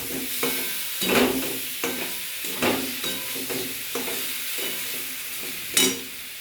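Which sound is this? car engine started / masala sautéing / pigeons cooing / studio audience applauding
masala sautéing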